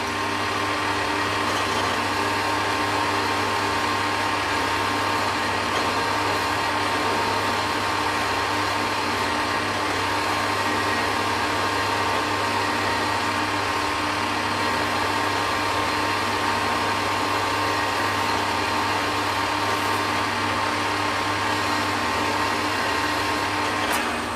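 A left-hand motor spins a carbide tip on a Z-Drive adaptor, giving a loud, continuous, even mechanical whir and hiss that holds steady without pause.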